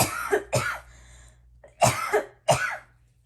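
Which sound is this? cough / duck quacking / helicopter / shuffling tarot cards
cough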